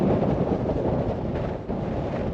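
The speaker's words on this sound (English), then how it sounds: "So the wind hasn't really let up" Strong wind roaring across an open grassy campsite in the Kent Downs, a steady, loud rumbling buffet against the microphone with no voices.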